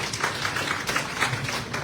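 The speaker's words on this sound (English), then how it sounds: "So give yourself a round of applause." A warm audience at a civic gathering in Port Gibson applauds steadily, dense clapping filling the moment at a moderate, even level with no talk over it.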